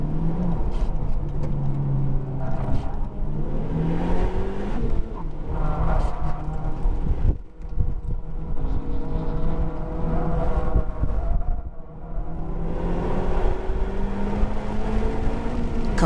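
Honda Civic Type R FK8, front-wheel drive, accelerating on the Shenandoah race track, a continuous loud engine drone rising and falling in pitch across several pulls.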